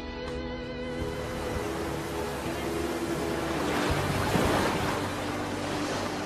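Sea waves and wind on Heligoland Bay, a steady broadband wash of surf and gusting air that swells slightly toward the end, constant and fairly close, with no voices.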